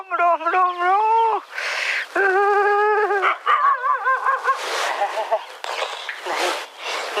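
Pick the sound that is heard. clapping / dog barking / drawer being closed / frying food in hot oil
dog barking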